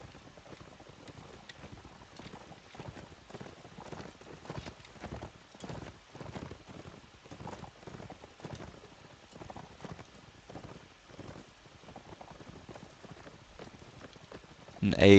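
Steady clip-clop of horse hooves from a tank horse in a competitive video game match, a continuous galloping rhythm at moderate level with faint wind noise underneath.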